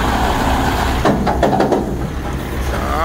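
A heavy truck engine rumbles close by, steady and low, with a few knocks and clanks around the middle as it pulls up during a truck swap.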